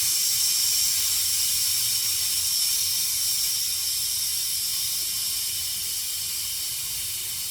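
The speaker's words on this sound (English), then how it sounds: "I'm now releasing the steam from the pressure cooker" Steam escapes from a pressure cooker during Indian home cooking in a steady, continuous hiss. It stays close and even throughout, with no voices.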